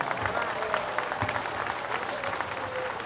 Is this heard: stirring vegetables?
no